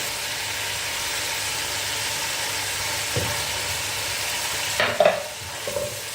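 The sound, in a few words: garlic frying in a pan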